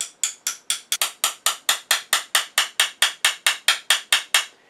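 A 2-inch by 3/16-inch carbide end mill is tapped into an epoxy-filled hole to make a burnisher for scrapers. About eighteen sharp, close metallic taps come in a rapid, even rhythm with no speech.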